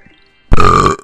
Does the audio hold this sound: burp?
yes